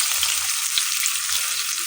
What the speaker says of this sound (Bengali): রসুন কুচি কিছুটা ভেজে দিয়ে দিচ্ছি পেঁয়াজ কুচি। পেঁয়াজ কুচিটা কিছুটা ভেজে নেব।